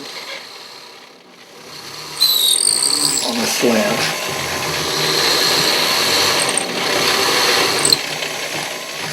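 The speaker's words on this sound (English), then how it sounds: "Now we can begin to drill alongside those holes" A power drill boring into a sculpted skull head, whirring close and steadily with a rising pitch as the bit bites, following a short spoken remark.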